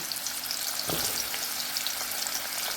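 Raw mango pieces fry in oil tempered with hing, giving a dense, loud, continuous crackling sizzle that fills the whole moment, with a brief softer stir in the middle.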